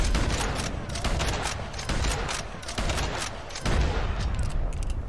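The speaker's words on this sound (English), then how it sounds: "Load a bunch of shots into its moose face." Rifle shots pumped into a legendary moose in Red Dead Redemption 2, a dense, rapid barrage of loud cracks and booms running nearly continuously, with a brief whooping exclamation from a voice.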